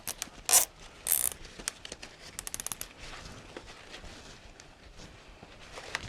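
Heavy zip ties ratcheting tight around a floral design of heavy greens, giving two loud, sharp zipping bursts early on, then a scatter of quieter clicks and rustles with no talking.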